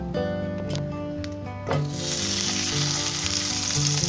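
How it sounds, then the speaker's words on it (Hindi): Chocolate French toast sticks fry in a pan with butter over a low flame. A quiet sizzle swells into a loud, steady hiss partway through, with a few stirring scrapes and soft music underneath. "अब हम इसे फ्राई करेंगे।"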